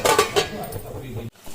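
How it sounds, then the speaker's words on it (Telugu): A lid going onto a pot of eggs cooking in a curry with flat beans and tomatoes, heard as a couple of quick metallic clinks and a scrape up close, then a brief silence before faint background sound returns. "మూత పెట్టేసుకుందాం."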